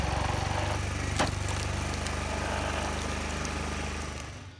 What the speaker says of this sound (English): Your homemade wood splitter